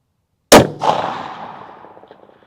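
A rifle fires at a 1 MOA steel target on a 1,000-yard range: one sharp, loud crack, then a clear metallic ring from the bullet striking steel, decaying slowly.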